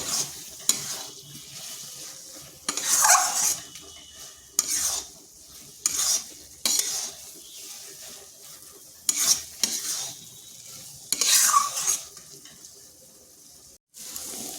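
Radish curry with coriander leaves is stirred and fried in a pan, with a continuous sizzle under a run of scraping stirs that come in irregular bursts every second or two, close and fairly loud.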